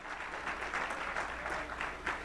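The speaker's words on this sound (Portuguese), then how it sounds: "Vamos aplaudir mais forte." A church congregation at a Sunday service claps together in worship, giving a steady, full round of applause that holds evenly throughout, with no voices clearly rising above it.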